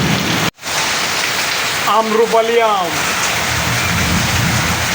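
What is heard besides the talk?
heavy rain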